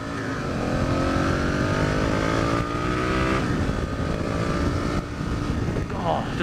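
Aprilia RSV Tuono Gen 1 V-twin motorcycle engine while riding, a steady rising drone as the bike accelerates, with wind roar throughout and a rider talking over it.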